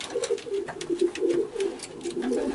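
Soft, low cooing from racing pigeons in a loft, repeated in overlapping murmurs throughout, with faint background clatter.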